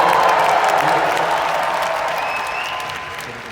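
Loud audience applause with some cheering at a Magic Johnson speaking event, a dense wash of clapping that starts strong and gradually fades over a few seconds.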